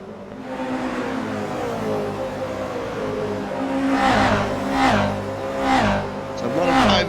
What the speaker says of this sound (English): the little 86 still trying to get some warmth into those tyres, even on lap 2